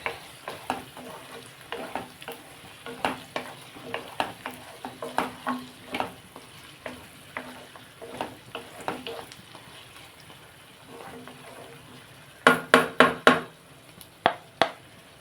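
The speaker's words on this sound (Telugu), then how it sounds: "ఒకసారి మనం ములక్కలు వేసేస్తాము" Drumstick pieces frying in a pan for a mango, drumstick and egg curry, soft sizzling under irregular spoon stirs and clinks, with a louder burst of knocks near the end, close by.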